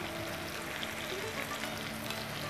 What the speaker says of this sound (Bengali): মশলা মাখা ইলিশ মাছটাকে এর উপর, এটা কিন্তু একটু বেশি তেল লাগেই